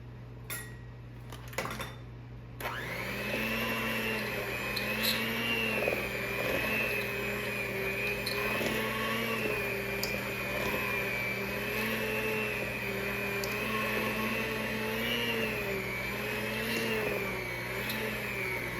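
An electric hand mixer beats chocolate chip cookie dough in a bowl, a steady whirring motor drone that wavers slightly in pitch with faint beater clatter against the bowl. It starts after a few brief knocks and runs nearby without speech.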